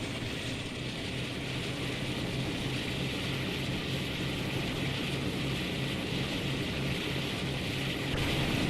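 Train engine at full throttle climbing uphill in the Train Sim World 5 video game on the West Cornwall local line, heard as a continuous, even engine roar with a steady mechanical rattle.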